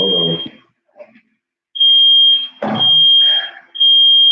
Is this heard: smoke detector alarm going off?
yes